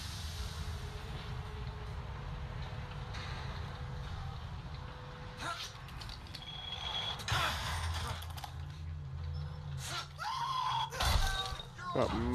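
A scream in Bioshock Infinite rings out over a low rumbling ambience with creaks, followed by a few sharp bursts of game sound toward the end.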